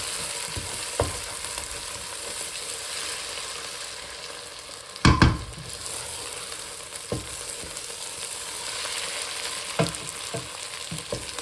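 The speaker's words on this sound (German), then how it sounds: "lasse die letzten 5 Minuten nochmal richtig Hitze ran, damit die Zwiebeln zum Schluss eine richtig schöne goldbraune Farbe bekommen" Onions fry in a pan over high heat, a steady close hiss of sizzling oil broken by a few sharp scraping stirs, one loud clatter near the middle, with no talking.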